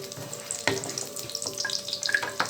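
Cashews and raisins fry in a pan, giving a steady soft sizzle broken by a few sharp stirring scrapes and clinks close by, with no voices.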